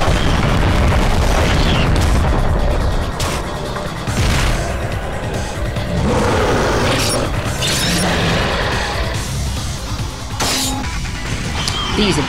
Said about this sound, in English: We'll find something to use this grenade gun on.